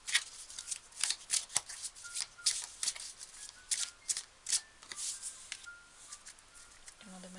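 Numerology cards being shuffled by hand, a rapid series of crisp riffling slaps and flutters close to the microphone, repeating in quick rhythmic bursts before a faint voice at the end.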